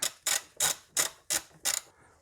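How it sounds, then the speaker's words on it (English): A ratchet wrench fitted with a long 10mm socket works bolts on an Opel Corsa C intake manifold, giving six quick, evenly spaced clicking bursts up close, each sharp and bright, with no talk. "with a long 10mm socket, undo these bolts"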